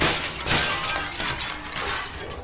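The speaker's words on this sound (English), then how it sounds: "Break the glass, maybe?" Glass shatters in the video game Deadlight, a sharp burst of breaking followed by a spray of tinkling fragments, heard alone with no talk.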